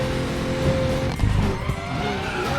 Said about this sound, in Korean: 그냥 자동으로 드리프트